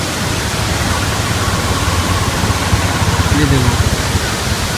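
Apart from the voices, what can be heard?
Diyaluma Waterfall in Sri Lanka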